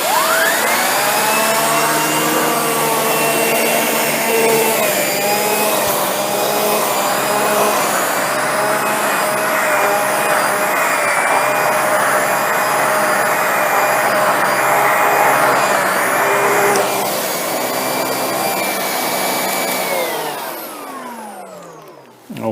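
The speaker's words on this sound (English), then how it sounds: "Now we're going to see how the pet power brush performs." A Shark Rotator Lift-Away NV682 vacuum with its pet power brush runs on carpet ground with pet hair, a loud, steady motor whine with shifting tonal hum that continues for about twenty seconds before spinning down.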